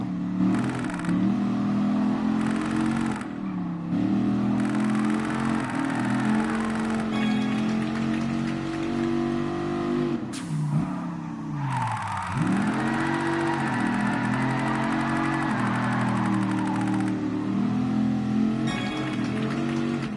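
Simulated car engine in Gran Turismo Sport revving and whining steadily under drift, with pitch dips and surges as the throttle is worked, loud and continuous throughout.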